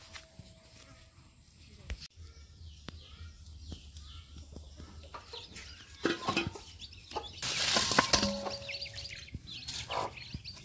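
Chickens cluck and call around a fenced outdoor garden plot, short scattered clucks mixed with bird chirps and rustling, fairly faint with a busier burst near the end.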